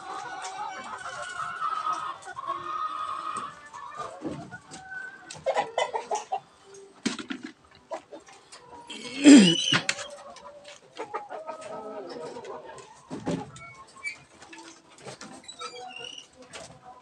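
Backyard chickens, hens kept with a rooster, cluck and call intermittently nearby. Scattered soft clucks and rustling alternate with quiet gaps, and one louder squawk stands out midway.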